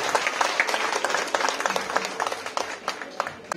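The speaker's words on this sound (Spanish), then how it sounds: "Y las palmas, a ver, es un aplauso para la niña." A small crowd applauding a birthday girl at a family celebration with mariachi music, dense continuous clapping held for several seconds, with some voices mixed in.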